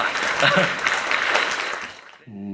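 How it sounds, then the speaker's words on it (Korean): An audience at a youth council session applauds for about two seconds, a broad wash of clapping that stops abruptly before a voice comes in. "큰 박수 부탁드리겠습니다."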